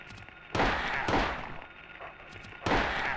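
Three loud gunshots are fired at a dog in the video game Silent Hill, each a sharp blast with a short decaying tail, spaced about a second apart and then a longer gap, over a quiet ambient background.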